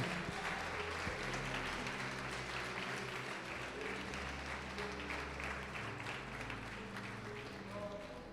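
A church congregation applauds in a steady, dense wash of clapping that stays even and sustained throughout, with voices mixed into the crowd.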